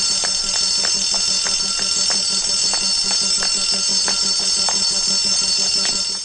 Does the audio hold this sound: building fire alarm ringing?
yes